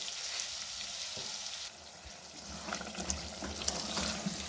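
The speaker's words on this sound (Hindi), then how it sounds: "इसमें अब 2-3 चमचे पानी डाल के तो हम इसको हल्की आग पे रख देंगे।" Aloo keema with two or three spoonfuls of water added, cooking over a low flame: a steady soft sizzle and bubbling hiss runs throughout, with a few light clinks and stirring scrapes toward the end, no talk.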